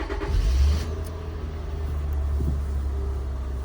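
1999 Acura TL engine starting, a brief low rumbling surge as it catches, then settling into a steady, fairly close idle hum.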